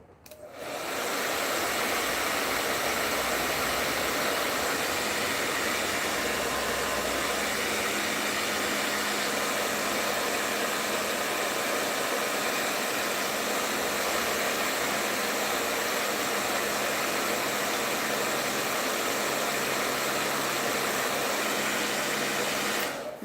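A hair dryer runs steadily and loudly throughout, a continuous airy roar drying paint on a rustic wooden decorative plaque, with no pauses or talk.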